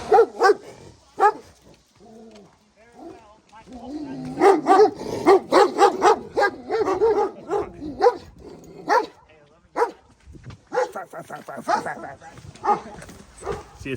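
Several caged dogs bark repeatedly, in bursts and overlapping yips, echoing close by in an enclosed space.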